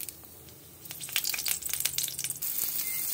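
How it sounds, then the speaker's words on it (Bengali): Nigella seeds and green chilies hit hot oil for tempering, crackling and spattering in quick bursts over a soft, low sizzle; the sound is fairly quiet, and no one talks. "এইবার আমি ওই তেলের মধ্যে কালো জিরে আর কাঁচা লঙ্কা ফোড়ন দিচ্ছি।"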